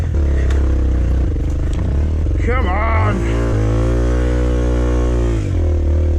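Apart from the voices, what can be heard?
dirt bike engine revving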